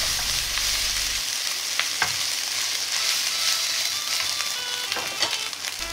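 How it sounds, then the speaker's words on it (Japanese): Food stir-frying in oil in a pan, a continuous close sizzle broken by scattered clicks and scrapes of stirring, with a low hum at the start and end. "油を入れたら全体に広がるように混ぜ合わせて炒めます。"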